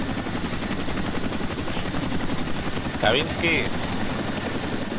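A military helicopter in the ARMA 2 war game drones with a steady rotor chop beneath the scene, while players talk over it in Spanish and a brief radio-like chirp cuts in.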